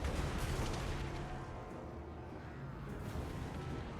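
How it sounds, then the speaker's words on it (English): Dwarf rocket launchers firing brimstone shot in Warhammer 2: Total War, a dense, continuous roar of launches and rumbling blasts, loud and close at first, then easing slightly. "That's our rocket launchers!"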